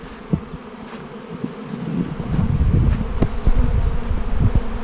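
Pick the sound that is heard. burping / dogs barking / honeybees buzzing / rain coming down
honeybees buzzing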